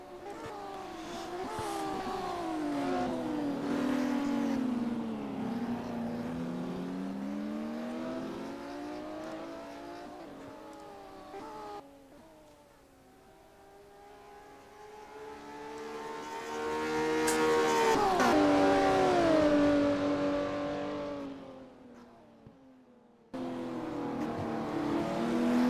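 Classic Porsche race cars in a sim racing game at the East London circuit, engines revving and shifting through gears with rising and falling pitch, loud and continuous, with a pass-by surge near the end.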